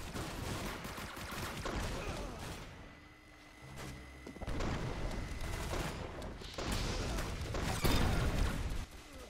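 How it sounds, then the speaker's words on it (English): Bursts of concussion rifle fire from a video game go off in rapid, dense clusters with heavy thumps and blasts, loud and close, with a brief quieter gap near the middle. "Okay, now I have the concussion rifle"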